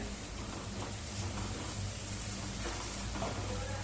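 Konkani-style wal bean curry with ground masala and bedgi chili powder stir-fried in a pan, giving a steady, dense sizzle that hisses continuously throughout, close and fairly loud.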